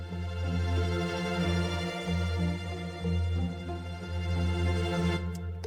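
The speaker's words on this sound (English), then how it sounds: "Now we're gonna add layers of tremolo strings that sound like this," Layered orchestral tremolo strings in a Christmas arrangement, with pizzicato accents, forming a steady, soft, shimmering sustained bed with a low drone beneath.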